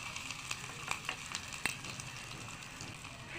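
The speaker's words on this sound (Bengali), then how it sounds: "আমার পেঁয়াজটা ভাজা ভাজা করে নেবো আমি" Onions with ginger fry in oil in a pot for khichuri, a faint, steady sizzle with scattered small pops and crackles, heard alone.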